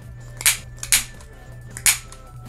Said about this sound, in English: we're going to also use the corner rounder to round the corners